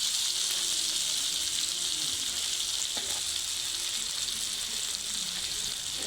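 Steady, continuous sizzle of chopped tomatoes hitting a cooked-down spice paste in hot oil, close and fairly loud in a home kitchen, with no talking.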